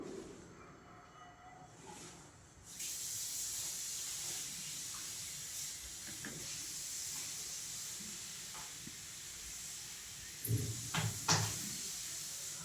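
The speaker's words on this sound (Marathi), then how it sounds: "हळूहळू आपल्याला अशा तळून घ्यायच्या आहेत" Beetroot puris frying in hot oil, a steady broad sizzle and hiss that swells after a quiet start, with a few louder bubbling bursts near the end.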